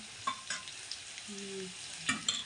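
A tempering of spices sizzles softly in a pan for a plain home meal of matki rice, with a few light clicks of a stirring spoon and a brief faint tone partway through.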